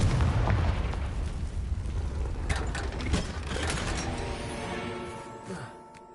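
Confringo spell blasts in a wizard video game, a dense rumbling explosive roar with crackling bursts that slowly fades out, while a voice calls out in the middle.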